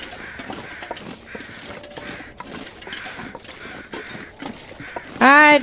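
Crows caw repeatedly in the video game Buried Echoes, a series of harsh calls at a steady, regular pace under a player's voice, ending with a louder, closer call.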